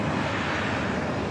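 Loud, steady roar of a Delta Boeing 767-300ER jet at JFK airport, a broad constant rumble that fills the whole moment without any rise or fade, heard alone with no voices.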